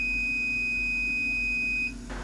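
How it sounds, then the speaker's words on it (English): A steady high electronic beep sounds continuously for about two seconds, then cuts off, leaving a low hum. "Tony, that beeping sound means the job is over"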